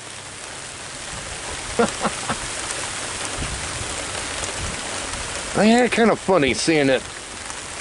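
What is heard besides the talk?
heavy rain falling outside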